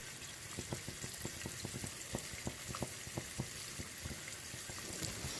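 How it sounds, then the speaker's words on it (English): Beef strips fry in a hot pan for sticky beef, a steady sizzle with frequent sharp pops and crackles spread irregularly over a continuous hiss, close and moderately loud. "The beef needs 3 to 4 minutes frying on each side."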